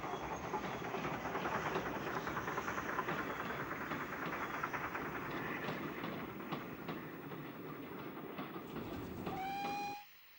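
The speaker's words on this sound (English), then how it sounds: "the 340 up mail from Bournemouth crossing Tucking Mill Viaduct" An up mail train from Bournemouth, hauled by a dirty 9F steam locomotive, rumbles across Tucking Mill Viaduct on an evening run, with a continuous distant clatter of wheels and a short whistle just before the sound cuts off.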